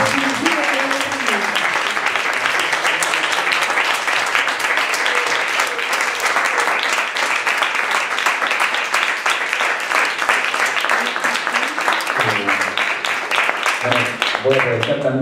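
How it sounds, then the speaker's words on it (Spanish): An audience at Karl-Liebknecht-Haus in Berlin gives a big round of applause for Matías Orellana at a Chile Despierto event. The clapping is sustained and full, with a voice speaking briefly at the start and again near the end. "Quisiera pedirle un gran aplauso a Matías Orellana"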